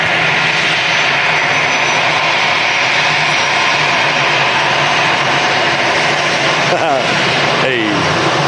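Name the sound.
EasyJet airliner jet engine at Manchester Airport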